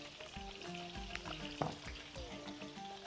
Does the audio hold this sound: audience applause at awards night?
no